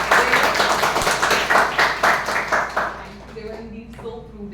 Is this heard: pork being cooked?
no